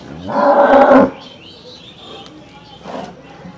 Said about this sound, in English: you can just hear the voice of the cow